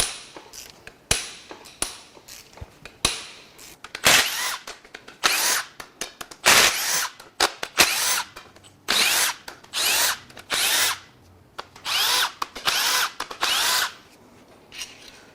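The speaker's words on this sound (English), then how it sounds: "now we're going to unbolt the control shaft caps" A power tool unbolting the control shaft caps on a Nissan VC-Turbo engine, firing in repeated short, loud rattling bursts separated by brief gaps, close up.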